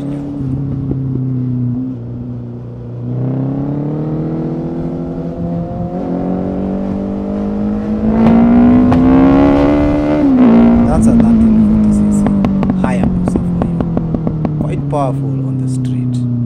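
A Suzuki Hayabusa motorcycle engine runs loud and close, holding a steady tone before climbing through a strong rev and settling back, with sharp crackles near the end.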